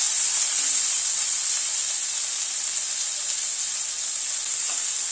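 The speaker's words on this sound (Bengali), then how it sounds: "টমেটোটাকে দিয়ে একটু নাড়াচাড়া করে নিচ্ছি আগে।" Chopped tomato sizzles in a hot pan while being stirred, a constant loud, hissing fry that runs unbroken throughout, with only faint utensil touches beneath it.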